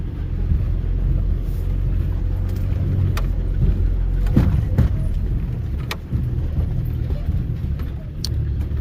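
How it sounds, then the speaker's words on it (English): A Land Rover 300Tdi drives off-road at Yarra Mountain, its engine rumbling steadily up close with occasional bumps and knocks. "But I drive a Land Rover."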